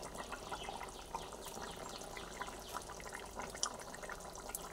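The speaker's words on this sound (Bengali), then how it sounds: "মাছের ঝোলটা একটু ফুটিয়ে নিলাম" Fish curry broth simmers and bubbles in a pot, a faint, steady watery bubbling with soft pops throughout, no talk.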